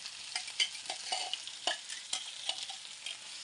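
Chickpea greens hit hot oil with garlic, cumin and peanuts, giving a quick burst of sizzling with scraping stirs and rustling leaves in short uneven strokes, close by and without speech.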